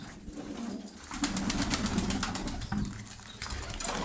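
Pigeons coo softly in a loft while being given vitamin-laced water, low murmuring calls rising and falling over a steady close background, with a few faint rustles.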